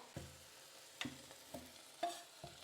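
Meat sizzles in a pan as it is briefly fried for a soup, with a handful of distinct stirring scrapes and crackles standing out over a quiet background, no voices present.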